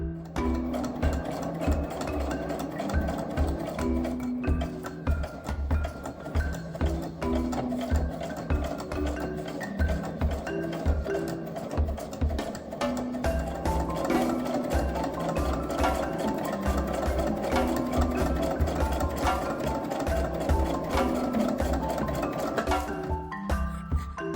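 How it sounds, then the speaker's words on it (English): A sewing machine runs steadily for a long stretch, its rapid mechanical stitching loud and close with a constant low motor hum, no talking. "So I'm going to hop over to my sewing machine,"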